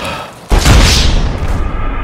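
A grenade explodes in Escape From Tarkov, a sudden loud boom that lands after a short quiet stretch and leaves a long rumbling tail for over a second.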